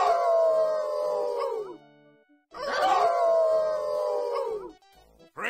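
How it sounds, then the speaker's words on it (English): Two long, wavering canine howls from a group in the Inherit the Earth video game, each held for about two seconds and sliding downward at the end, loud and close with a brief silence between them. "how about a good group howl?"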